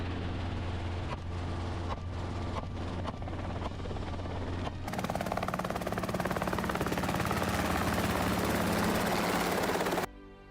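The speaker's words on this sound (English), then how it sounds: "Helicopters flown by licensed gunners sweep across the vast countryside." A helicopter carrying licensed gunners hunting wild boar sweeps over open countryside, its rotor thumping and engine droning, starting softer and then growing louder and denser as it nears, before cutting off abruptly.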